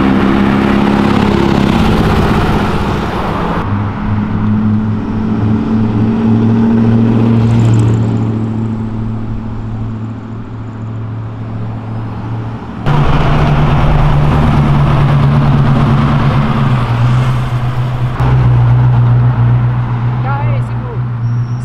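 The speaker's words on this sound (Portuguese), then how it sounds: "É um Dodge alemão." A German-built Dodge car idles with a deep, steady low rumble and swells into louder revs partway through, close by on a city avenue, with people talking over it and a brief drop in level midway.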